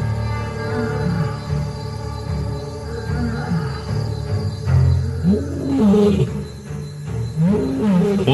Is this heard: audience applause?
no